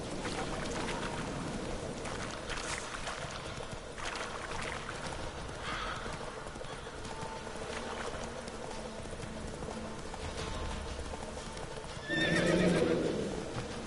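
A horse in the video game The Witcher 3 clip-clops along at a steady trot under a watery ambient bed, then lets out a loud, close neigh near the end.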